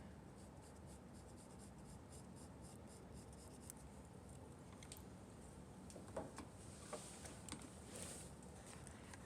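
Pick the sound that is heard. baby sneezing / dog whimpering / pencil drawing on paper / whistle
pencil drawing on paper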